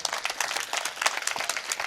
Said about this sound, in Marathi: म्हणून त्यांच्याकडे जरा टाळ्या वाजवा